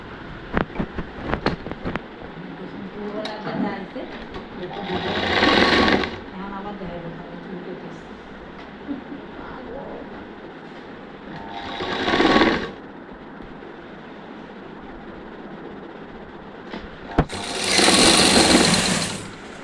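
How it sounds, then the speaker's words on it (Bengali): A sewing machine stitches a folded hem on a short nightgown in three loud, close bursts of whirring, separated by quieter handling noise and a few clicks, with no voice over the stitching. "ফোল্ড দিয়ে একটা সেলাই করে দেবো।"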